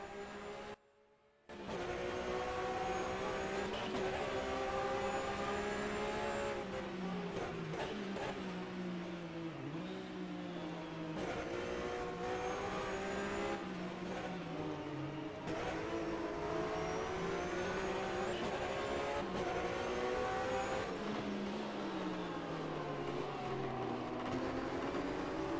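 Porsche GT race car heard onboard at the Lédenon circuit, a loud continuous engine note climbing and dropping through repeated gear changes and braking, with no talk over it.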